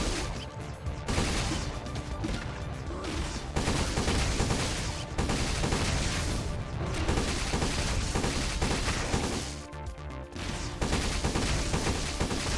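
Rapid electric gun shooting in the Blade Assault video game, a steady barrage of crackling shots with crashing impacts that runs for the whole stretch, loud and busy, with no voices over it.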